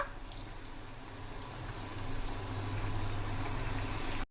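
Wheat flour biscuits fry in a pan of hot oil, giving a steady bubbling hiss that grows fuller and louder partway through, with no voices.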